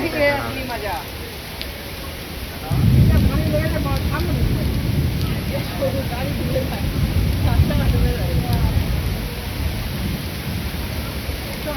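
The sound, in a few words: heavy rain in a flooded street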